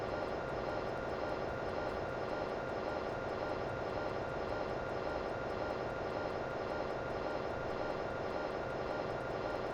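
The AI-9 auxiliary power unit of a Yak-40 in a flight simulator game runs as a steady, even turbine whine and roar, constant and loud for the whole stretch with no talk.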